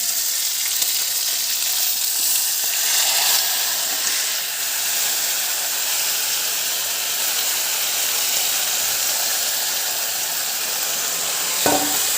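Desi chicken meat frying in a pan while being slowly stirred, a loud steady sizzle and hiss running throughout with a sharp scrape near the end and no talking.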